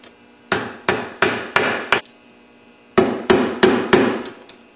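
An impact gun removes an engine balancer, firing nine sharp rattling bursts: five in quick succession, a short pause, then four more, loud and close with no talking.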